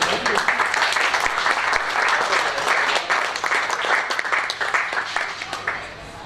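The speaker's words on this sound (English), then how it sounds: "Round of applause for Ryan." Crowd at a cricket club presentation night applauds in a dense, sustained wash of clapping, loud and steady throughout before easing slightly at the end, with some voices mixed in.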